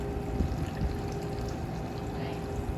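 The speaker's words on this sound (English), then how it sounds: "Look at that perfect pour." A blue curaçao and pineapple juice cocktail is poured from a shaker into a glass at a Palm Desert bar, a steady close liquid pour running evenly from start to finish.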